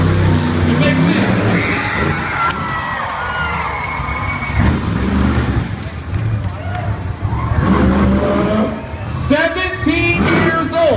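A monster truck roars through a county fair show, its engine revving and surging with a crowd cheering around it, while an announcer's amplified voice talks over the action.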